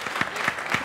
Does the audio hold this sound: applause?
yes